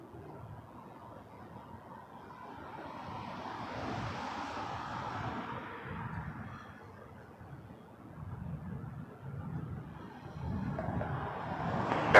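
Air Canada A320 airliner landing on runway 06 at Toronto Pearson, arriving from St. John's: a steady distant jet roar that slowly swells and fades, then builds again toward the end.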